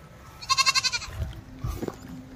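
A goat bleats once, close and loud, with a quavering, pulsing cry that lasts about half a second, then a few softer grunts and rustling follow.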